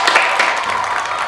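Studio audience applause at a comedy talk show taping, a brief loud patter of many hands clapping, near and steady, fading slightly at the end.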